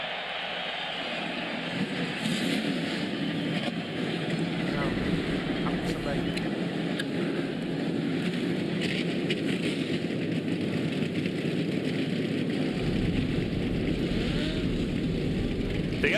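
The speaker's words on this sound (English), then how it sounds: "The engines have been fired." NASCAR stock car engines fire up together on the grid at Charlotte Motor Speedway before the Coca-Cola 600, a steady loud roar of many engines held throughout, with a voice speaking over it.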